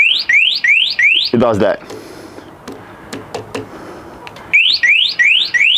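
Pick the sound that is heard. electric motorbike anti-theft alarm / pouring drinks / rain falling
electric motorbike anti-theft alarm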